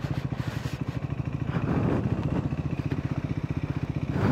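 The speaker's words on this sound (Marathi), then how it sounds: "पहिल्यांदा विंडमिलच्या एवढ्या जवळ बाईक घेऊन येतोय." A motorcycle ridden near a windmill, its engine giving a steady rapid chugging pulse at close range that rises slightly in the middle and keeps an even rhythm throughout, with no voices.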